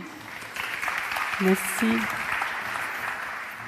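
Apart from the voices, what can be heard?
applause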